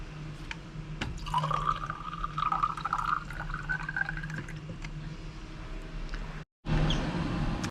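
Water gurgles and rushes steadily through the water trap of an ABI 3500 genetic analyzer, pushed by a plunger, for several seconds with a rising whistling tone, cuts out briefly, then resumes with a low hum.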